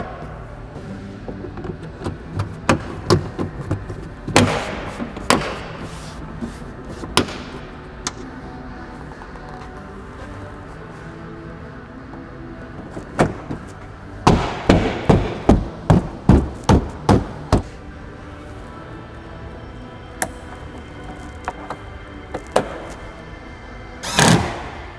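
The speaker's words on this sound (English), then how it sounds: "we're just going to start putting the boot back together" Boot trim is pushed back into place in an Audi Q3 after a rear camera install, with scattered plastic clicks and thumps, including a quick run of snaps, against a quiet background.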